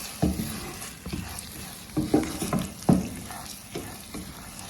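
Sugar melting in a pan for peanut brittle is stirred in slow strokes, each producing a thick scraping swish every second or so over a soft sizzling background.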